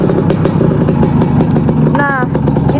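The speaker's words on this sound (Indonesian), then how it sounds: "kita tes suaranya motor 2 langkah dan 4 langkah." Two-stroke and four-stroke motorcycle engines run close by, a loud steady rattling drone with continuous engine clatter throughout; a voice speaks briefly near the end.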